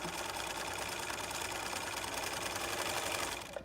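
A sewing machine runs an embroidery stitch pattern of little hearts, with a fast, steady mechanical whir and rapid needle clatter at close range for several seconds before stopping, without talk.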